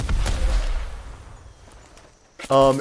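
A rocket jump explosion blasting off a hammer in the video game Dauntless, a booming burst at the start that fades into quiet, followed by a short sharp game sound at the end.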